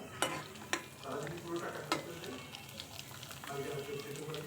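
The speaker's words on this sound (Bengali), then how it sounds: "প্যাকেটের কেনা ফুচকা তো সেটাই এখন ভাজতেছে" Packaged fuchka frying in hot oil with a steady crackling sizzle, broken by a few sharp clinks and scrapes as it is stirred; close and moderately loud, with no one speaking.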